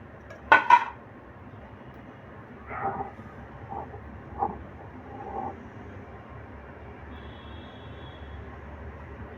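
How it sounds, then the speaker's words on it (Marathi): Dough balls drop into boiling lentils (varan) in a pressure cooker for varanphal: one sharp utensil clink, then several soft, quiet plops spaced a second or so apart. "वरण उकळलेलं आहे छानपैकी आता हे गोळे टाकून घेणार आहोत"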